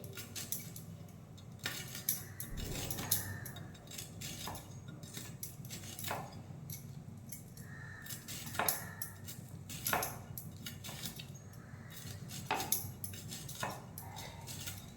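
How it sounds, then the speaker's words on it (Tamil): A knife cuts bitter gourd finely on a board, giving a steady series of close, crisp chopping taps with short pauses and light clinks between strokes, and no voices. "இப்போ தான் நான் பாகக்காயை கட் பண்ணிகிட்ருக்கேன்."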